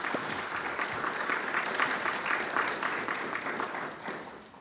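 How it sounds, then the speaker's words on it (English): An audience applauds board members at a welcome event, steady dense clapping sustained throughout before tapering slightly at the end. "So if you all could please just join me in giving them a round of applause."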